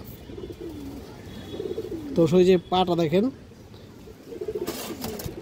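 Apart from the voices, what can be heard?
giribaz pigeons cooing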